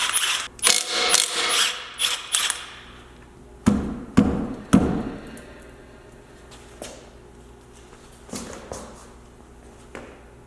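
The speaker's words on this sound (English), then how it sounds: "I also went ahead and invested in an awesome impact gun," An electric impact gun, used while fitting tires on a lifted van, gives several loud close rattling bursts early on, followed by scattered clanks and thumps of handling.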